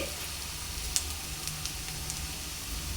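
Ginger garlic paste fries in a pan for a Godavari-style korameenu fish curry, making a continuous soft hiss and sizzle with a few faint clicks. No talking is heard.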